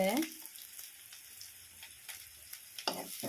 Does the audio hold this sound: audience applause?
no